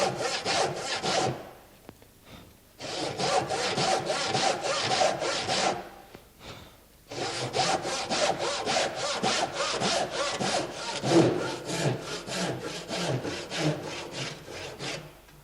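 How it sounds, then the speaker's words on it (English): A hand saw cuts through sawn timber in steady, rhythmic back-and-forth strokes, close and loud, with two brief pauses before the sawing resumes, no talking. "let the saw do the work, use the whole length of the saw, make sure that the saw is absolutely sharp"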